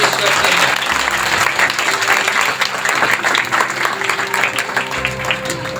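Congregation applauding during a Christmas Eve homily in church, sustained loud clapping with a steady tonal hum beneath and some voices mixed in.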